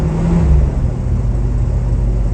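A school bus engine starts and runs at a steady, loud rumble while it builds air pressure, with a slight rev from added gas and no speech.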